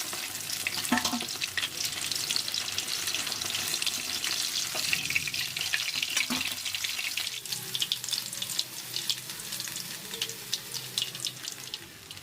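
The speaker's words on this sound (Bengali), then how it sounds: "এবারে একইভাবে বাকি মাছগুলোকেও ভেজে নেব" Pieces of bhetki fish fry in hot oil with a steady, close sizzle and crackle, joined by scattered clicks and scrapes of handling, while a tap runs faintly in the background.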